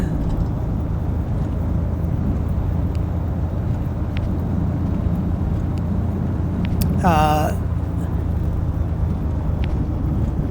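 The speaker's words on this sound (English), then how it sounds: "I can hear the snowy hard ground." Steady low engine drone of a Bonanza V35 in a flight simulator taxiing on snowy hard ground at Port Hardy, with a brief whistling sweep partway through and faint talk underneath.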